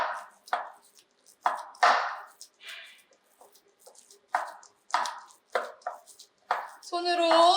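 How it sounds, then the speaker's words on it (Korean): Ground meat for Salisbury steak kneaded and pressed by hand, wet slapping squishes in irregular bursts, close and quiet, with a voice speaking briefly at the end. "손으로 눌러가면서 치대주시고요"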